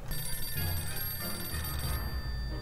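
A telephone rings in the 60 Seconds survival game, a repeated bright electronic bell tone held over a low murmuring game background, moderately quiet and with no talking.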